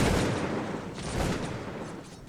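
A musket volley from grenadiers in Cossacks 2 bursts out as a dense, rolling crackle of many shots that swells, dips and fades over about two seconds, loud and continuous.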